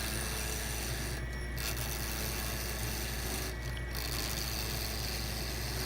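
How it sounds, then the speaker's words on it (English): A carbide lathe tool cuts a wooden duck call barrel, a continuous close, loud rasping shave over a steady motor hum, with two brief breaks where the tool lifts off the wood. "these carbide tools really hog out a lot of wood"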